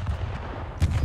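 Two heavy booms from a 40 millimeter naval gun firing in a video game, one at the start and one near the end, each with a dull low-end thump over continuous rumbling game ambience.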